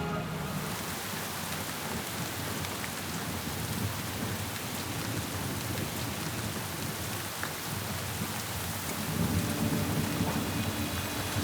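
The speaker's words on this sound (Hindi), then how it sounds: "इतनी खतरनाक बारिश" Heavy rain pours steadily with a dense, even roar, and low rumbles of thunder roll underneath, swelling slightly louder toward the end; no voices.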